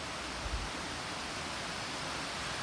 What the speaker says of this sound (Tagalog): This is the Tausuban Falls.